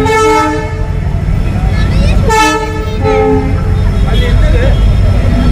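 A twin Alco diesel-hauled Suratgarh–Jaipur express train rumbles through a busy market street with repeated horn blasts and honking, a constant loud roar of traffic jam and crowd noise throughout.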